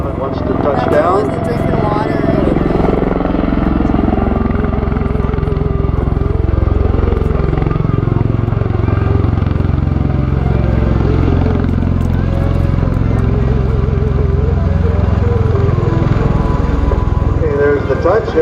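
An MV-22 Osprey tiltrotor aircraft at an airshow descends to land, its loud, steady rotor and engine roar filling the whole stretch with a throbbing drone that slowly shifts in pitch, while an announcer talks over it throughout.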